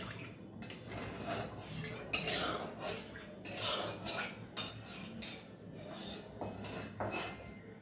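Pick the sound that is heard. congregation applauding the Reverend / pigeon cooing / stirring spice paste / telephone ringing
stirring spice paste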